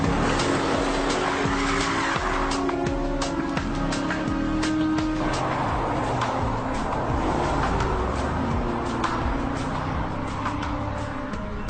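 A speeding car tears along a road during a police pursuit, its engine roaring continuously with tyre squeal and skidding layered over a dense, loud wash of road noise for the whole stretch, with no talk.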